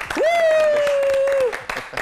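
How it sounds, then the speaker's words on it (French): Brief applause from a small crowd, with one long sustained whoop over the clapping before it thins out. "Comme hier, nous allons vous offrir quelques applaudissements."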